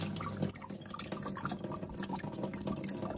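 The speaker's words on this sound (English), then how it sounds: "Tip whatever water is in there out." Water tipped out of the sump of a steam iron during descaling, pouring and dripping steadily into a sink, close and fairly loud for the whole stretch.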